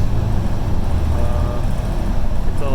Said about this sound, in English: It was a long bus ride almost there.